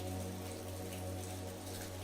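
Steady rain falls throughout, a dense even hiss with soft patter and a low constant hum underneath. Nothing else is heard.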